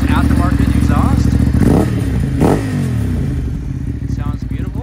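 A 2013 Ducati Hypermotard with aftermarket exhaust rumbles loudly nearby at idle, a steady throbbing pulse with a couple of brief throttle blips, while someone talks over it.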